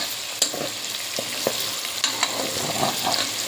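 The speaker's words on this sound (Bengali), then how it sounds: "এখানে আলু ভাজি করে নিচ্ছি, আলু ভাজিটা হয়ে যাচ্ছে।" Potatoes fry in a pan with a steady, close sizzle throughout, broken by light clicks and scrapes from stirring, with no voices.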